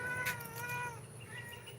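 A neighborhood cat gives a single long, wavering meow up close that fades out partway through, against a steady low background hum.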